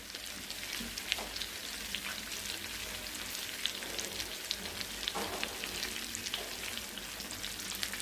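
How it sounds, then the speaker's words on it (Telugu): Marinated whole chicken joint pieces, legs with the full joint, fry and roast in a pan for pulao, giving a steady, close, dense sizzle with crackling pops and occasional stirring scrapes throughout, with no talk. "ఇది మంచిగా డ్రై అవ్వాలి, బాగా రోస్ట్ అవ్వాలి ఎర్రగా."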